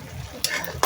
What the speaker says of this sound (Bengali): পেঁয়াজ এবং কাঁচামরিচ দিয়ে সবজিটা আমি কষিয়ে নিচ্ছি